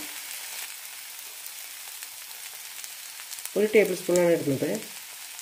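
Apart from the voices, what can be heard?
carrot and grated coconut sizzling in a pan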